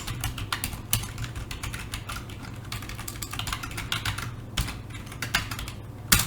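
Fast typing on a computer keyboard while writing Arduino code, a close, dense patter of crisp key clicks in quick irregular bursts with a few heavier strokes and no talking.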